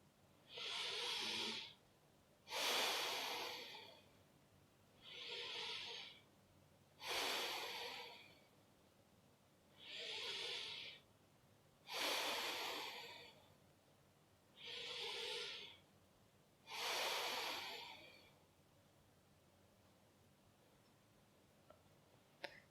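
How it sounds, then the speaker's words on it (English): Slow, deep breaths in and out during a seated breathing exercise, eight long, evenly spaced breath sounds close and clear with quiet pauses between, alone without talk. "Just sit down, deep breathe in, deep breathe out, deep breathe in, deep breathe out."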